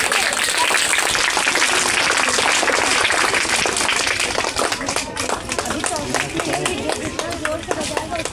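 A school farewell crowd applauds students, dense continuous clapping that stays loud and close for the whole stretch and eases slightly near the end, with faint crowd chatter mixed in.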